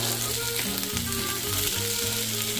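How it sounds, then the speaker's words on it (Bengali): Chopped tomato sizzles in a frying pan with a steady, close hiss, while soft tonal music plays underneath throughout. "এখানে এবার দিয়ে দিচ্ছি টমেটো কুচি"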